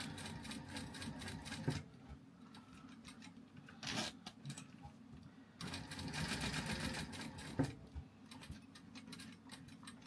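A sewing machine stitching a wallet runs in rapid mechanical bursts, a close steady clatter broken by short pauses, at a moderate level.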